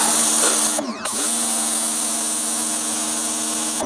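V-Tuf V3 pressure washer firing through its 0 degree nozzle, a loud steady hissing spray with motor hum, briefly cut near the start, then running on continuously and close.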